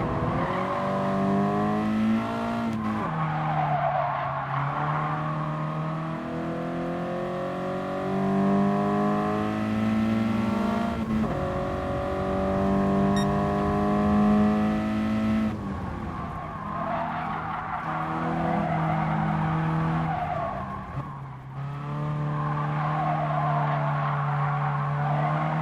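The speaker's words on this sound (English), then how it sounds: "the AI braking in the middle of the corner and making me brake as well" Race cars in Gran Turismo Sport brake hard into a corner, tires squealing and skidding over droning engine tones that rise and fall as the cars slow and accelerate away.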